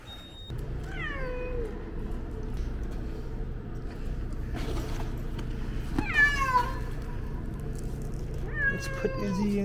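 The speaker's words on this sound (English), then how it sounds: "Oh, there is a cat there." A cat meowing inside an RV, several drawn-out meows spaced across the stretch, fairly close and clear over a low steady hum, with no talking during the calls.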